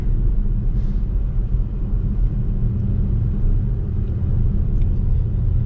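Steady low engine and road rumble from inside a moving 2025 VW Tiguan with a turbocharged engine and an 8-speed automatic transmission, loud and unbroken throughout with no speech.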